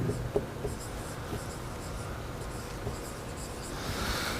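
Someone writes on a board during a university policy lecture, a run of close, scratchy strokes and light taps against faint room noise, with no talking.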